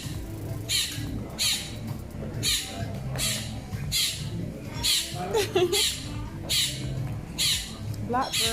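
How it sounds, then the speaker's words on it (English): Crows or blackbirds squawk in regular repeated harsh calls, roughly one every second, close by at an outdoor Jamaican breakfast table, with murmured talk and table clatter underneath. "Guys, we have some birdies."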